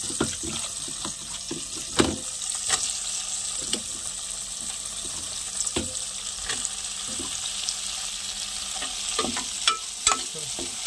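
Brinjal pieces frying in a pan for a tomato-brinjal curry, with a steady sizzle and repeated sharp scraping clicks of a spoon stirring against the pan, close and without talk.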